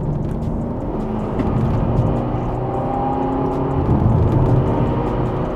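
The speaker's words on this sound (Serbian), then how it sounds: "Kako se čuje šuštanje turbina! Evo ga, šalta sam, lepo je, lepo šaltanje u sportskom modu" Ferrari GTC4 Lusso accelerating in sport mode, loud steady engine drone with rising tone and turbo whoosh from inside the cabin.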